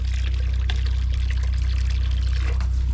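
Filtered water pours steadily from a filter into containers at an off-grid homestead, a continuous close splashing stream with no talk.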